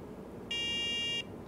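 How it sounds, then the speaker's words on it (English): A single sharp electronic beep sounds for under a second over a faint background hiss as a Nio iPhone/iPad anti-loss accessory is switched on. "Oh, and you hear it beep,"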